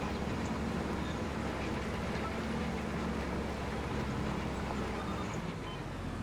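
Steam train in the Farming Simulator 25 video game, a loud, continuous rumbling roar of the train rolling past close by.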